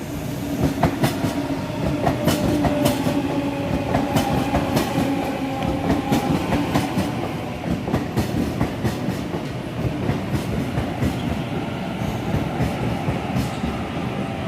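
A Sydney Trains service arrives at Granville station at night, rumbling steadily with repeated clickety-clack wheel beats and a faint squeal as it rolls along the platform, loud and close throughout.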